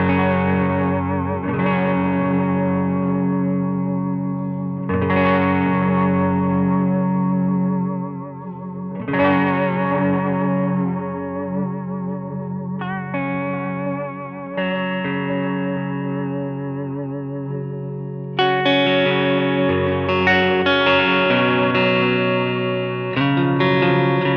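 Held guitar chords run through a Strymon modulation pedal with the mix at 100%, strummed several times and left to ring with a wavering, chorus-like shimmer, close and sustained, without voices.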